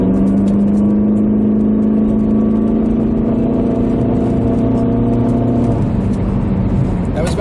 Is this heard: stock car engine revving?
yes